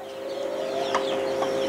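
Young teenage chicks cluck and chirp in a barn, a few soft calls over a steady mechanical hum.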